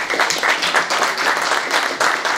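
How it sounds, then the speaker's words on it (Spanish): An audience claps for a lecturer at a talk on crop pollination and varroa mite management in beehives, a full, fairly steady round of applause with slight swells. "Démosle un fuerte aplauso al doctor Fidel."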